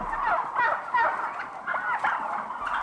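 Turkeys gobble on a UK turkey farm, several birds calling in overlapping rapid warbling bursts, near and moderately loud, with no voices over them.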